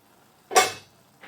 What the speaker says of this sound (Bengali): ঢাকাটা খুলে নাড়াচাড়া করে এবং দেখব যে সেদ্ধ হয়েছে কি না